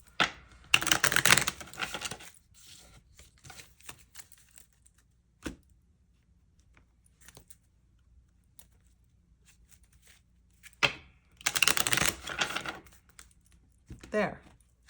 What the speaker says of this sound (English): I can shuffle these cards.